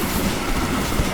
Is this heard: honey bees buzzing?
no